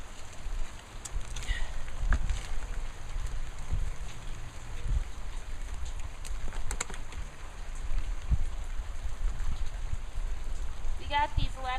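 Steady rain falls in a garden in California in May, a soft continuous patter close by with scattered drop ticks throughout.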